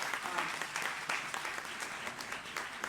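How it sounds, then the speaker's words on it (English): Audience at a university symposium applauding, dense continuous clapping from a room full of people, sustained and even throughout. "Je voudrais que vous l'applaudissiez beaucoup."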